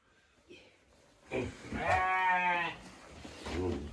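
A Chios sheep gives one long, wavering bleat nearby, followed by a shorter bleat, over quiet rustling.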